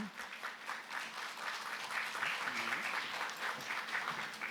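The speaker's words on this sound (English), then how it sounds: "a big round of applause for the VAC LV dance team, choreographed by Megan Pham" Sustained applause from an audience at a police alliance quarterly meeting, honoring a dance team after its performance; steady, dense clapping fills the whole stretch, with faint voices murmuring underneath.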